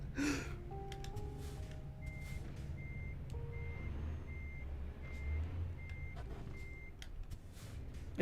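A stuck bus in the American Truck Simulator video game gives steady, evenly spaced reversing beeps over a low engine rumble, clear and continuous throughout.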